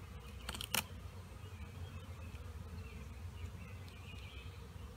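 Honey bees buzz around the front of a beehive, crawling in and out through a crack, a steady low insect drone close by with a brief sharper clicking burst near the start.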